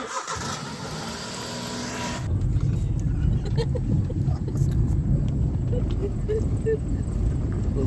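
A car engine cranks and catches, settling into a close, rumbling idle that runs steadily to the end after a brief mechanical whir at the start; no talking is heard.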